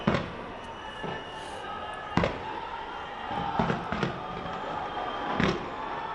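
Fireworks at a New Year 2024 celebration in Raipur, a series of sharp bursts and bangs at irregular intervals over a crowd murmur, with a voice talking in the background.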